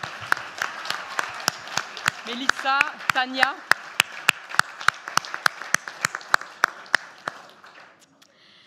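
A small gathering claps to thank volunteers who served through the summer: evenly spaced, sharp claps in a steady rhythm, with a few names called out partway through, before the clapping stops.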